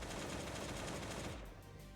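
AK rifle fired in a video game, a rapid automatic burst of shots running for over a second before cutting off, close but fairly faint.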